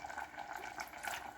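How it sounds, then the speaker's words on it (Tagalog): Fish sauce is poured into a pot of minced beef sopas, giving a faint, soft trickle of liquid that lasts about a second and a half. "So, lagyan ko siya ng patis."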